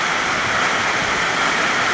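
Heavy rain pouring down in a village, a loud, dense and unbroken rushing roar of water that stays constant throughout.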